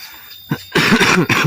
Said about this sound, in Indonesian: Aduh, batuk ngebledag ya.